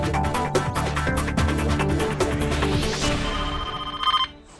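A telephone rings with a loud, continuous electronic ringtone that repeats without pause and cuts off just before the end.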